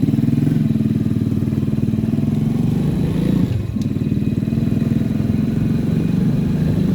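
A Euro Marvel 125 motorcycle fitted with a modified digital gauge panel runs close by, its engine chugging in a steady rhythmic idle. A brief dip in the engine note comes midway, then the idle holds level.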